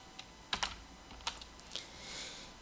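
Several crisp keystrokes on a computer keyboard while a name is typed into a spreadsheet, close and clear, in short irregular bursts over a quiet background with no talking.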